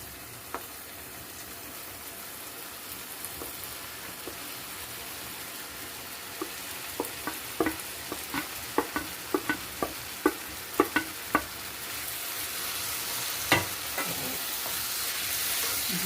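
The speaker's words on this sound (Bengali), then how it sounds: "এবার আমি এই সমস্ত মশলা সহযোগে আনাজগুলো কষতে কষতে থাকছি" Fried vegetables stir-fried with spices and yogurt in a pan for navratna paneer, a continuous sizzle under a rhythmic series of spatula scrapes and taps that grows busier midway, no talk.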